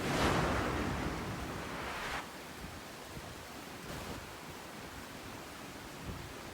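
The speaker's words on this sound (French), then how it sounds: "Les cascades d'Arkshor, un endroit magnifique," Waterfalls at Akchour in northern Morocco's national park, a steady broadband roar of falling water, loudest at first and then a constant wash with slight surges, no voices.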